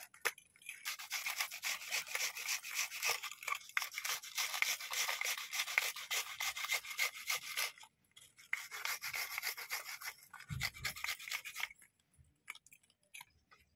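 Small onions are grated by hand for a hair remedy, giving bursts of rapid, close scraping strokes that pause briefly and then resume.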